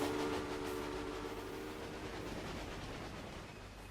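A train running in the Railway Empire video game gives a steady, broadband rumble with faint rhythmic texture, fairly quiet and slowly fading, with no talk over it.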